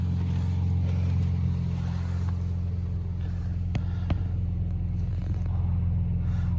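A Toyota Tacoma engine idles after a cold start in snowy weather, a steady low drone that holds evenly at close range, with a couple of faint clicks over it.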